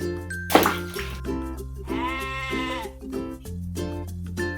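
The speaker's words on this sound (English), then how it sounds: "Goat." A goat lets out a single drawn-out, wavering bleat at close range, set against soft background music with a brief splashy rustle near the start.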